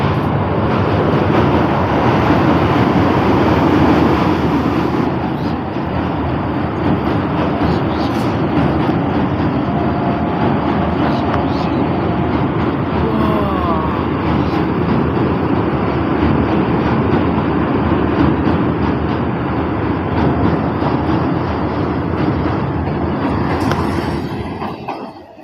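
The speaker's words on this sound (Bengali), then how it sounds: "এই ট্রেন ঢুকছে দেখো।" A train pulls into a station near the Maltipur overbridge on a winter morning, a loud, steady rumble of wheels and cars that holds for about 25 seconds before easing off at the end.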